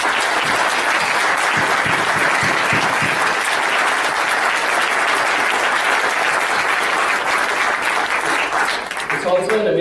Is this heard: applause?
yes